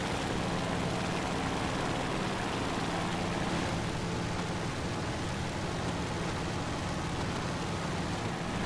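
A Ki-43 fighter plane's propeller engine in the War Thunder aerial combat game, a continuous loud roaring drone with a slight swell partway through and no talk over it.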